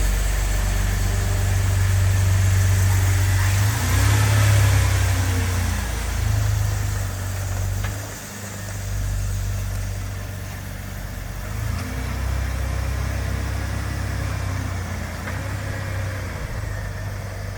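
A 2000 Jeep Wrangler Sahara idles steadily up close, with a low, even engine rumble, a slight dip partway through, and no voices.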